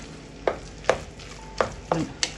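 Banana stem and tapioca thoran being stirred in a pan, four or five distinct spoon scrapes at an uneven pace over a faint background sizzle, close by, with no voices.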